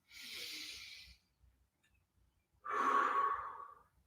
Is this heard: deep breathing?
yes